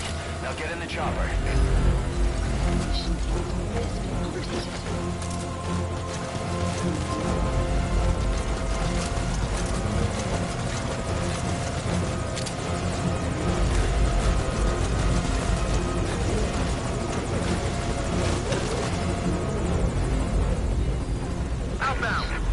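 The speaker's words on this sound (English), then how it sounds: "Now get in the chopper." Helicopter rotor chop and turbine whine in a video game, loud and continuous throughout, layered with mechanical clatter and dense game action sounds.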